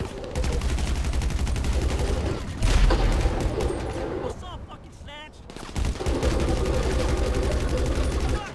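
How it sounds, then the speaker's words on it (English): Gunfire in the video game Grand Theft Auto V: sustained bursts of shots over driving game noise, with a heavy boom early on and a short lull of squealing sounds before the firing resumes. "Where the fuck was I getting shot from?"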